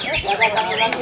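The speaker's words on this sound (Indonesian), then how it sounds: "murai gadis yang akan diperlombakan" An oriental magpie-robin sings a quick run of bright, rising and falling whistled notes, close and clear, lasting about a second, at a songbird contest in Singkil.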